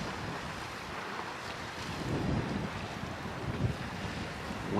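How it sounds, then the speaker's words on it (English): Steady wind rushes past the microphone on an ocean shoreline near a lighthouse, a constant broadband roar with gusts swelling slightly louder partway through, no voices present. "Wind's picking up a bit, so I need to anchor my easel before it tips over"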